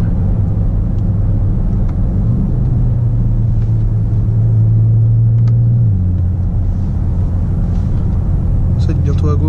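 Steady low diesel drone from a BMW X5 M50d SUV on the move, heard from inside the cabin, with a pitch shift partway through as the engine note changes, continuous road rumble throughout.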